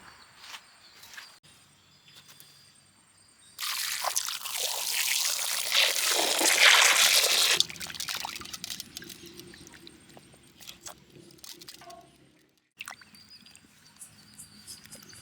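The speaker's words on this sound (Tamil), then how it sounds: "இப்போ நல்லா காடையை நல்லா அலசி எடுத்துக்கலாம்." Quail meat being rinsed by hand in a pot of water for a village-style fried quail roast, a loud burst of pouring and splashing water lasting a few seconds amid quieter dribbles and handling noises.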